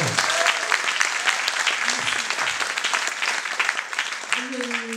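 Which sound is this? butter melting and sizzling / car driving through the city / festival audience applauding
festival audience applauding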